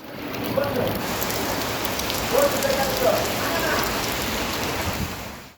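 Heavy rain pours steadily on the streets of Mandya city, a dense, even hiss of drops on surfaces with faint scattered sounds beneath.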